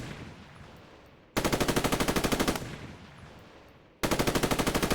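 Machine gun fixed fire in a Roblox military sim game: two loud, rapid bursts of evenly spaced shots, each lasting over a second, with a fading echo between them.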